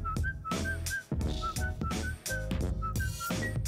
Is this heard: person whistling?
yes